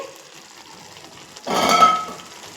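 Water is poured into a pan of green peas and potato curry, a sudden loud splashing hiss that rises, peaks and fades over about a second, after quiet simmering.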